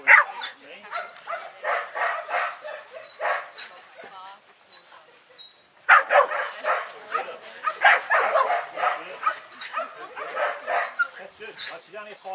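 A six-month-old kelpie pup yips, whimpers and barks repeatedly outdoors in irregular bursts, with a brief pause midway. The pup is close and fairly loud.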